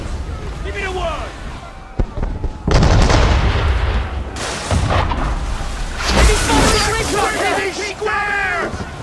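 Cannon fire booms out in an Assassin's Creed 3 naval battle, several heavy broadband blasts landing a second or two apart amid loud shouted orders from the crew.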